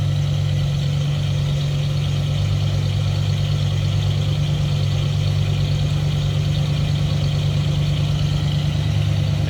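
A rebuilt 365 V8 in a 1957 Cadillac Eldorado Biarritz convertible idles steadily, a smooth, even low rumble heard from behind the car near the exhaust, with no talking.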